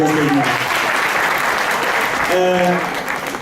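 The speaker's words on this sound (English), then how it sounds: "Round of applause again for the speaker." An audience applauds a speaker at a motivational talk, steady dense clapping filling the room while a voice speaks over it near the start and again toward the end.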